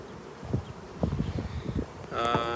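Honeybees hum faintly at an open double-deep hive with fresh honey and brood, the soft buzz broken by dull knocks and handling sounds, then a brief brighter tone near the end.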